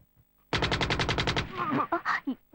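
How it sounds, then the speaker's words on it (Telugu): In a Telugu comedy film scene, a loud, rapid machine-gun burst of about ten evenly spaced shots rings out, followed by a voice and a few scattered sounds. "తుపాకీ తుపాకీ"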